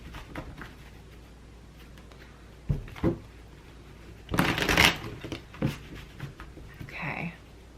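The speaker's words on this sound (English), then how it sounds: "Let's just give these a good shuffle." A deck of tarot cards being shuffled by hand, several riffling bursts with one loud, dense shuffle in the middle and lighter taps around it, close up with no speech.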